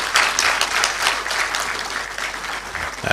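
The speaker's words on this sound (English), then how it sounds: "Let's give him a big round of applause," Audience at a law alumni association public lecture breaking into steady, dense applause, a full room of hands clapping continuously and fairly loudly throughout.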